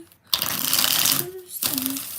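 A deck of tarot cards is shuffled in two long, close bursts of riffling and sliding, separated by a short pause, with a faint voice or hum beneath.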